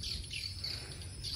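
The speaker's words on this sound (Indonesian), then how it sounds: "Dan itu rumah burung walet. Coba kita dengar." Swiftlets at a swiftlet house give a faint, distant, continuous high twittering, with thin chirps rising and falling over a quiet low background hum.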